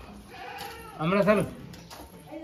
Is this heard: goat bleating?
yes